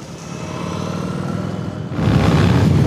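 A V4 motorcycle engine hums steadily inside a rider's helmet, a muffled, droning note that swells louder near the end as the throttle opens.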